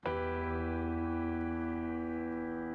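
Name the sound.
piano patch with compression, EQ, reverb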